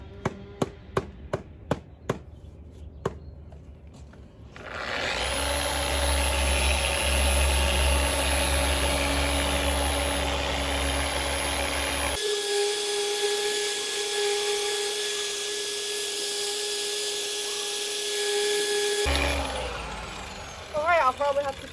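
A power sander runs against a boat's dead gelcoat, a loud, steady whine that holds for long stretches and shifts pitch partway through, after a few sharp knocks at the start; a voice talks over it.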